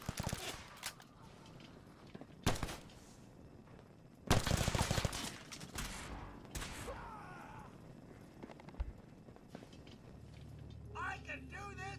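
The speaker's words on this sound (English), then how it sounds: "It appears someone is shooting at us." Gunfire in the video game Fallout 4 arrives as several sharp bursts and single shots amid mechanical clatter, with voices talking between the shots.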